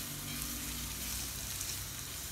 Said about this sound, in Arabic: كنضيف واحد المعلقه ديال الزبده والزيت وغادي نخليو هذا الفطر ديالنا كيتشحر